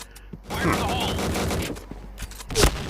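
Rapid gunfire bursts in the first-person shooter PointBlank, a dense volley of shots running almost continuously under excited talk, with a louder crack near the end.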